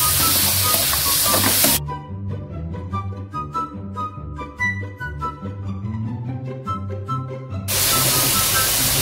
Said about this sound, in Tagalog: Lagay natin yung ating halo-halong gulay.